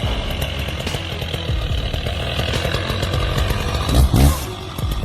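A loud chainsaw roars continuously as it cuts through a wooden tree stump, the engine pitch shifting slightly under load.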